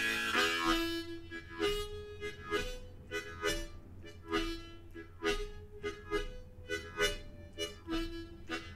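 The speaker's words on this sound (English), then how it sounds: "Slowed down, it sounds like this." A harmonica played with tongue blocking works through a slowed-down Chicago blues groove, short single-note draws each followed by a brief, softer chord stab in a loose repeating rhythm, played alone and close.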